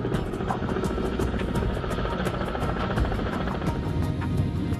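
A Chinese helicopter on a rescue in Antarctic ice, its rotor thumping in a steady rapid beat, loud and close, with engine roar underneath throughout.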